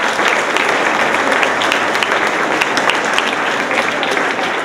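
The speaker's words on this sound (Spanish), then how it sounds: "Que quiero que le brindemos un fuerte aplauso." An audience at a Chilean school's public accountability event applauding a teacher, sustained dense clapping from many hands, loud and steady throughout.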